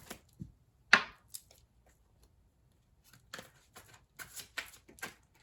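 Tarot cards being shuffled and pulled from a deck during a reading, heard as a few sharp papery flicks and riffles spaced through otherwise quiet moments, close and fairly soft.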